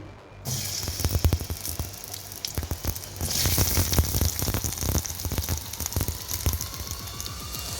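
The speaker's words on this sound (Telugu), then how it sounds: "ఇప్పుడు అలాగే కొంచెం ఆయిల్ వేస్తున్నాను. తర్వాత ఇందులో క్యాప్సికమ్," Capsicum sizzles in fresh oil for peanut chutney, a close, crackling fry with sharp spitting pops scattered through it, swelling louder midway after a quiet start.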